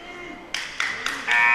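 A loud horn ending the first period of a senior-night wrestling match, sounding in three short bursts and then one longer sustained blast over crowd noise.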